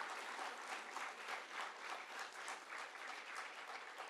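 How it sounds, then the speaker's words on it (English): An audience at a corporate pre-placement talk gives a steady round of applause, dense clapping from many hands, heard from across the room at moderate level and continuing throughout. "can we have another round of applause because a lot of hard work has gone behind this"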